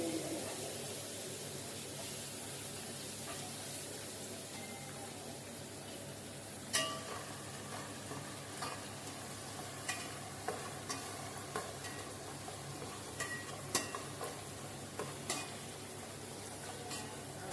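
Eggplant, tomato, green chili and ginger paste stirred in a pan for a pulao dish, with a steady sizzle of frying throughout and scattered clicks of a spoon scraping the pan. The clicks come in now and then, and nobody speaks.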